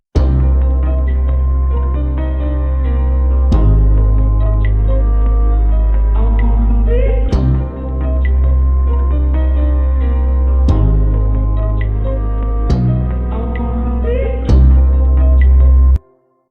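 Beat melody of strings and a solo violin layered over a sample, looping in loud phrases with regular accented hits roughly every few seconds, ending abruptly, no voices.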